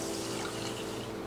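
Water pours steadily into a pot holding dry quinoa, a continuous close splashing fill lasting about a second with no talk.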